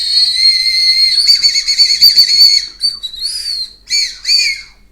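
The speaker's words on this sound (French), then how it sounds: "Un petit bonbon sifflant" A whistling candy blown at a Halloween outing gives a loud, shrill steady whistle for over two seconds, then several shorter bursts with gaps between, close to the listener and with no talk over it.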